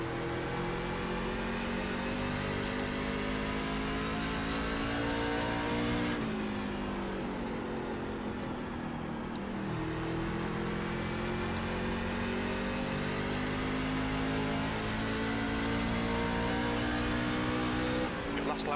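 Race car engines hold a steady, droning high-revving roar throughout a NASCAR Class C short-track racing game, with pitch shifts as cars lift and get back on throttle, under continuous talk.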